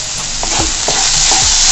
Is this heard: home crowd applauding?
no